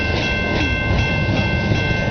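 A freight train carrying boxcars and containers passes close by, with loud, steady rumbling and wheel clatter filling the whole stretch and no voices.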